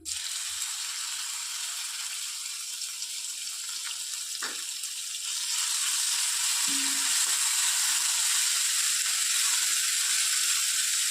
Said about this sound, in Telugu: ఇందులో మనం క్రష్ చేసి పెట్టుకున్న వెల్లుల్లి అలాగే పచ్చిమిర్చిని కూడా యాడ్ చేసుకోవాలి